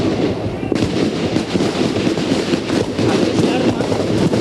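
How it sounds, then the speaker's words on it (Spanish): Gunfire erupts in front of the cathedral of San Salvador during the 1979 coup unrest, a dense, continuous crackle of rapid shots heard outdoors amid crowd noise. "han sonado unos disparos"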